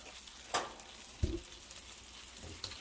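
A thick cowboy steak searing with butter in a warm cast iron pan, giving a quiet, steady sizzle with a couple of soft knocks and scrapes, no voices.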